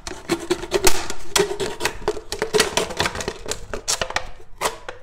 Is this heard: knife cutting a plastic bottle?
yes